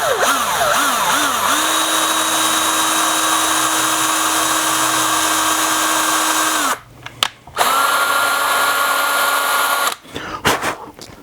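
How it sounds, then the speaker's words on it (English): A power drill boring a pilot hole into a scratch-built guitar body to mount a Schaller bridge, a loud close steady whine that revs briefly, runs for several seconds, pauses, then resumes with short bursts. "I'm just going to drill this first hole."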